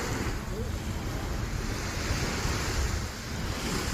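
Ocean waves wash onto a beach in a steady, broad roar of surf, with wind buffeting the microphone throughout.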